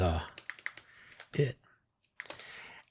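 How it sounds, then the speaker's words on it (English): Someone types on a computer keyboard in short clattering bursts of keystrokes, with a pause in the middle, alongside a person talking. "What am I typing here?"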